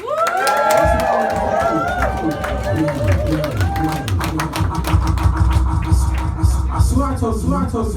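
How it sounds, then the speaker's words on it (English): Party crowd at a book launch cheering and clapping for the DJ, lively whoops and scattered claps mixed with music and voices, fairly loud and busy throughout. "A big round of applause for the DJ, my mate Harry Bix"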